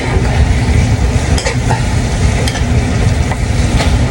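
Chicken adobo sizzling and frying in a pan, with steady dense crackle and sputter plus occasional stirring scrapes, loud and continuous throughout.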